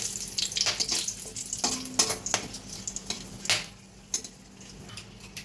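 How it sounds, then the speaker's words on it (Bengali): Whole garam masala and two bay leaves sizzle in a hot wok, giving a soft, fairly quiet frying hiss broken by a few sharp clinks and spoon knocks. "কড়াই গরম হয়ে গেছে, আমি এই যে গোটা গরম মশলা দিয়ে দেবো"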